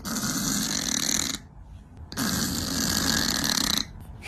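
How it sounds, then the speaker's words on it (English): A cat snores loudly and close up, two long rasping snores separated by a short quiet breath. "this little guy snores louder than a human."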